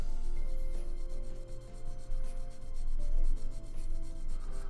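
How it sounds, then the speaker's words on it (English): Gunpla plastic model kit parts being sanded down by hand, a continuous close rasping rub in quick back-and-forth strokes, fairly loud and steady with no talking. "Instead of knifing these, I'll just sand them down."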